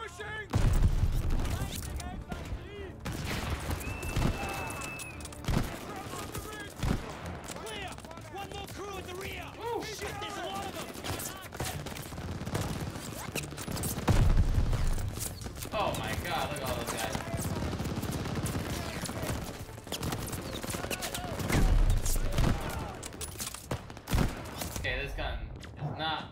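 Battle at El Alamein in Call of Duty Vanguard, with scattered gunshots and bursts of rifle fire cracking through a busy, rumbling combat mix while voices shout intermittently.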